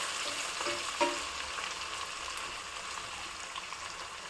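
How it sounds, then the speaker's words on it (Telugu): Green chillies frying in a pan for Hyderabad-style mutton curry, a soft steady sizzle and crackle with a light stirring clink near the start. "పచ్చిమిర్చి వేసుకుందాము. లైట్ బ్రౌన్ కలర్ వచ్చే వరకు ఫ్రై చేసుకుందాము."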